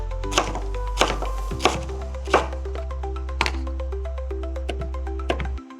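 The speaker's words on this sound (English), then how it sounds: "We cut it into smaller pieces." A knife chops a pineapple on a cutting board into smaller pieces, sharp thuds in a series of irregular chops, close and distinct, with a faint hum underneath.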